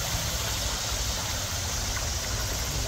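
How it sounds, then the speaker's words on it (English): A creek flows with a steady, close wash of rushing water, an even broadband hiss and babble with no voices. "So here we are by our creek."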